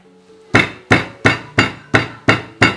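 Seven evenly spaced thuds of a meat pounder striking beef, each sharp and solid, repeated at a steady rhythm.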